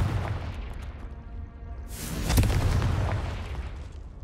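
Confringo fire spell explosion in the Hogwarts Legacy video game, a single booming blast about halfway through over a low rumbling game background.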